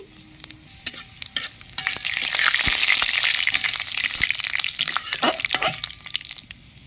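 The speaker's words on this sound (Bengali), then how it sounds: "2টো শুকনো লঙ্কা ফোড়ন দিয়ে দিচ্ছি, 5 ফোড়ন দিয়ে দিচ্ছি।" Dry red chillies and five-spice seeds hit hot oil in a wok and burst into a loud, steady sizzle that builds after a couple of seconds, with scattered pops and spoon scrapes throughout.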